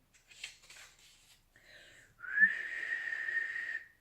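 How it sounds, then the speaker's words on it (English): A sustained high whistle tone rings out for a couple of seconds after some brief rustling, close and fairly loud. "Mr. Bustle put the whistle to his lips"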